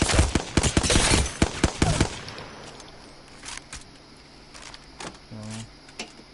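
Bursts of assault rifle fire in Apex Legends, a fast string of loud close shots for about two seconds, then quieter game ambience with faint clicks.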